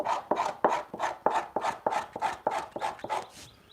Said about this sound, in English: Right now, scraping the last grain off this buckskin.